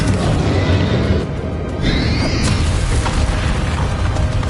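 Confringo fire spell blast in Hogwarts Legacy, a loud booming burst with a brief whooshing streak over constant dense game noise.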